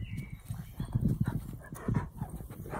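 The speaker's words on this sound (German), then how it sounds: "Tessa ist mein Hund, eine Leonbergerin von 16 Monaten." A 16-month-old female Leonberger pants in quick, rhythmic breaths, close and moderately loud, with a few soft footfalls beneath.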